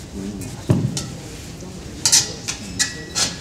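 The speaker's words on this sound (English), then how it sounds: "we stir fry everything that we have in terms of the onions, tomatoes, with fish as we stir fry" Onions, tomatoes and fish are stir fried in a pan, with intermittent scraping and clinking of a utensil against the metal and a soft sizzle, while a person talks.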